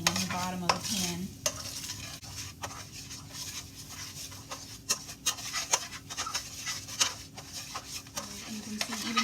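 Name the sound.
caramel apple dip bubbling in a pan while being stirred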